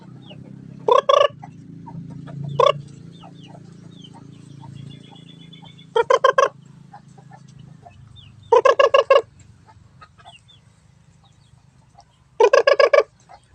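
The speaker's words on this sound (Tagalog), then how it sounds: "So itong manok na to" A laying hen clucks in short, loud bursts of several rapid notes, separated by quiet gaps over a low steady background hum, with no talking.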